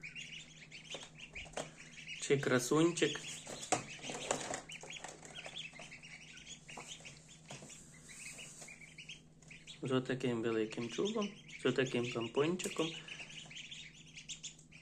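High, thin peeping chirps from newly hatched ducklings in an incubator come in bursts, close by, while someone speaks softly over them.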